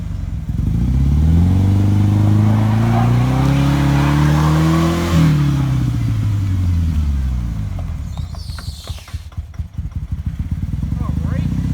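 A two-wheel-drive Ford Ranger pickup revs hard off road during a one-wheel peel, its engine climbing and falling in loud sustained sweeps, then dropping to a rough idle as voices talk nearby.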